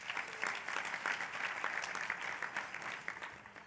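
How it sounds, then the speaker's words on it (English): An audience at a conference keynote luncheon claps steadily in a dense, even patter of many hands that holds for several seconds and then tapers slightly toward the end, with no talk over it. "Go ahead and applaud"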